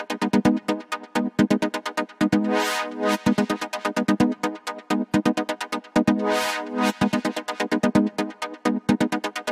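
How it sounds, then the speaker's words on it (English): Wavy house stab synth built from a sawtooth patch in Surge XT, playing a bright, rhythmic chord pattern of short punchy hits with periodic sustained swelling notes, loud and dry with no voice. "we make a wavy house step sound together that sounds like this."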